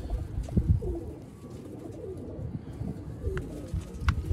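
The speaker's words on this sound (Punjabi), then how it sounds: "ਬੇਸਿਕਲੀ ਇਹ ਮਿੱਸੇ ਕਬੂਤਰਾਂ ਚੋਂ ਬਣੇ ਨੇ ਕਬੂਤਰ।" Rare mixed-breed pigeons coo on a rooftop in Sialkot, with low throaty calls repeating close by over a quiet background.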